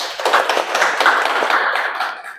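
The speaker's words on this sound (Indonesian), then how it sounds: "Tepuk tangan untuk kelompok 1." Students in a university classroom clap briefly for a discussion group, a short, close flurry of hand claps lasting a couple of seconds before trailing off.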